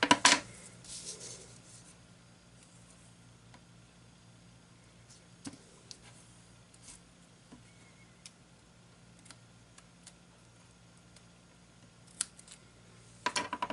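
Scissors snipping craft materials such as foam, acetate and sequins, a few sharp cuts at the start and end with scattered faint clicks in a quiet room between them.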